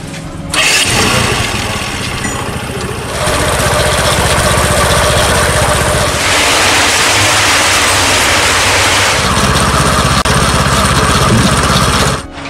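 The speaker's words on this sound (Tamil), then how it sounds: "இப்போ பைக்கை ஸ்டார்ட் பண்ணி விடுறேன்." A motorcycle engine starts and runs steadily to drive a concrete mixer on a building site, a loud continuous mechanical drone that shifts in pitch and texture partway through and cuts off at the end.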